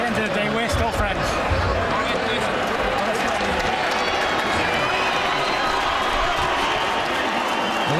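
Boxing arena crowd at a Tyson Fury heavyweight bout claps and cheers in a loud, continuous roar, with commentators talking over it throughout.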